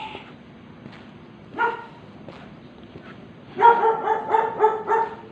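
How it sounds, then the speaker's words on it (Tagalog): Many dogs in a residential street by a basketball court bark, starting with scattered single yaps and building to a rapid, loud run of overlapping barks near the end. "Daming aso guys."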